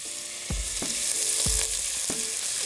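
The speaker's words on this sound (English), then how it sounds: "we're taking white onions, taking butter, and we're stirring it until it becomes brown" White onions fry in butter in a pan, a loud steady sizzle broken by four distinct scraping strokes of stirring, close and without voices.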